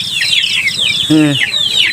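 Chickens cluck in a rapid, repeated series of short calls near a rice-farming field, with a brief louder squawk partway through.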